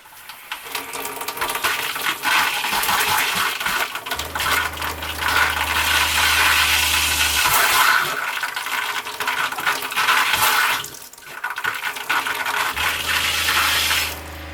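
A water pump in a 1997 Mallard 29S RV pushes antifreeze through the sink tap, a steady hissing, spattering flow with a low motor hum that cycles on and off between bursts.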